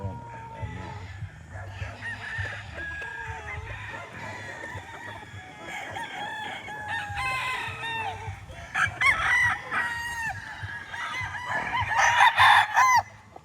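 Roosters crow repeatedly with hens clucking around them, several birds close by over a low background hum, growing louder toward the end.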